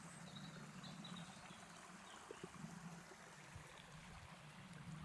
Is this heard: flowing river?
yes